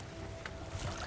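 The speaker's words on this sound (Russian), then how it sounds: "Мотором чуть-чуть сзади подрабатывай." An outboard motor idles at low power at the stern of a boat that has run aground on a shallow shoal in the Laptev Sea. It makes a steady low rumble mixed with wind and water noise, with no talk.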